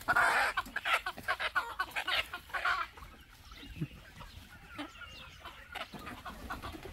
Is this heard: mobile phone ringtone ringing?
no